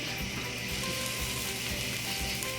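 Four cloves of garlic sizzle steadily in olive oil in a pan while stuffed poblanos are being made, a dense, even frying hiss that stays constant and close throughout with no talking.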